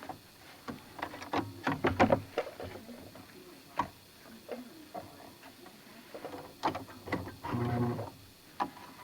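A sewing machine stitching a duct tape knife sheath gives faint, irregular bursts of ticking and clattering, starting and stopping in short runs with quiet gaps between them.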